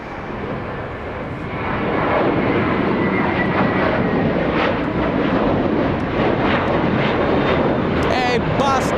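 A JetBlue airliner departs Los Angeles International Airport bound for Boston, its loud, steady jet roar swelling after the first two seconds and holding as a broad rumble.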